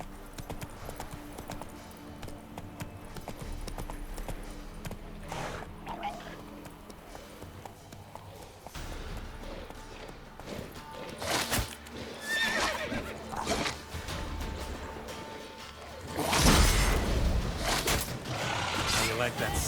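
Roach, the horse in the Witcher 3 video game, gallops with rhythmic clip-clopping hooves and lets out neighs, louder toward the end, mixed with game sounds and someone talking over it.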